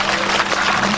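Applause from an audience at a religious talk, a thick continuous wash of many hands clapping at once, loud and steady for a brief moment.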